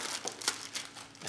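Adhesive tape peels away from Corsair Vengeance K70 keyboard packaging with short, close crinkling and tearing rustles, with no talk over it.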